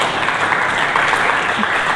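A church congregation applauds steadily during a sermon, a dense, even wash of many hands clapping at close range with no break for the full length.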